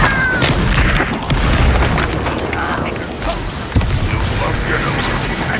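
A Confringo blasting spell goes off in the Hogwarts Legacy video game, a loud booming blast over dense game noise with voices talking, a sharp second impact near the end.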